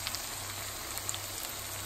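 Stuffed jalapenos cook over a low flame in a pan, giving off a soft, steady sizzle and faint crackle that runs quietly throughout with no talk.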